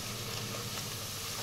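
Spice masala with turmeric and cumin powder frying in a pan, a loud, dense continuous sizzle and hiss filling the whole short stretch, with no voices.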